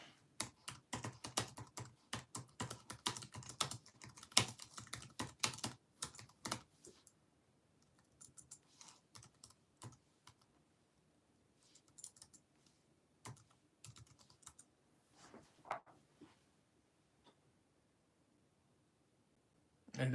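Rapid typing on a computer keyboard, loud and dense for the first several seconds, then thinning to scattered keystrokes with brief bursts later on.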